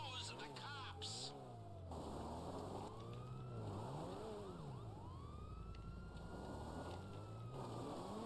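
A police siren in the video game GTA Online wails in rising and falling sweeps, loud and continuous with car engine noise, while someone talks over it.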